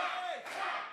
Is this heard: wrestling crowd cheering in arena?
yes